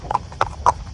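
Horses walking along a highway, hooves striking the pavement in a steady clip-clop of about four close, loud strikes in under a second.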